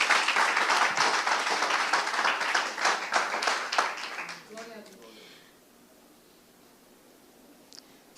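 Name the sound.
loud church applause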